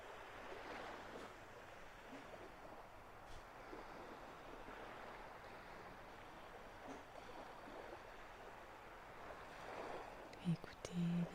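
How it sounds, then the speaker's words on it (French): Soft ocean waves wash in and recede in slow swells, distant and gentle, with a couple of brief bumps near the end. "Écoutez les vagues,"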